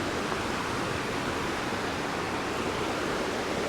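Steady broadband rush of the Duckabush River flowing along a forested trail, constant and fairly loud with no breaks, like close whitewater or a small rapid filling the whole scene.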